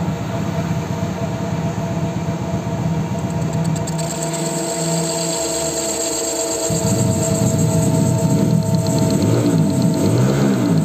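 A metal lathe turns down a Honda Karisma motorcycle magneto rotor by about 2 mm, a steady loud mechanical whir with a high ringing tone, the cutting texture shifting partway through; no talking.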